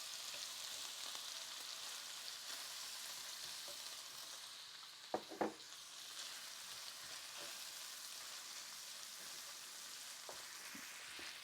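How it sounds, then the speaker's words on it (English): Pork tenderloin browning in a pan, a faint, steady sizzling hiss with a couple of brief sharp pops and clatters partway through. "Now the pork is just browning nicely."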